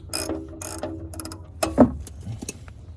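A ratchet wrench loosens the oil drain plug on a Dodge D150 pickup truck, giving a few short, close bursts of rapid metallic clicking separated by pauses.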